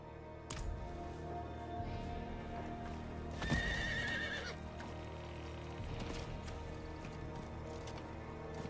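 Horse hooves and a whinny from a mount in the video game Diablo IV, a steady game sound with a brief louder burst midway, no speech over it.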